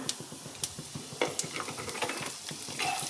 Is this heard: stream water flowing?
no